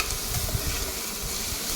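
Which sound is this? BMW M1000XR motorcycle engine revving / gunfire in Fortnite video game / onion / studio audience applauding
onion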